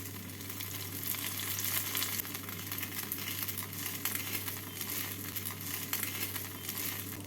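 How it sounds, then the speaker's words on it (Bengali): Continuous crackling sizzle of bread frying in a little white oil for a vegetable snack, close and steady with a constant low hum underneath, no voices. "এবার আরেক দিকটাকেও এইভাবে লাল করে ভেজে নেব অল্প সাদা তেল দিয়ে দিলাম"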